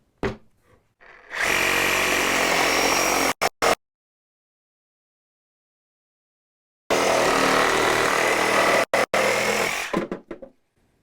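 A Dewalt 20V Max compact brushless Sawzall reciprocating saw cutting with an aggressive blade, two loud sustained buzzing runs of a few seconds each separated by a silent pause, with brief stop-start bursts at their ends.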